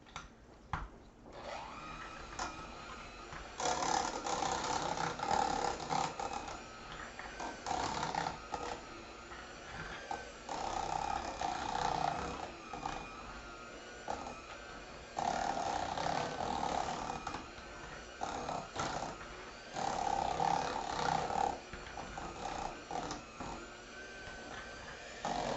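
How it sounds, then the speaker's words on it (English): An electric mixer whirs steadily through a bowl with half and half in a home kitchen, its motor hum surging louder and easing back several times in a continuous, moderately faint drone. "And then I'm going to mix them up with my mixer."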